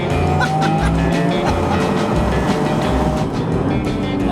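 Cupra K1 hatchback driven hard on a spin, its engine loud and continuous with throttle blips while rev matching, tyre noise underneath, no talking.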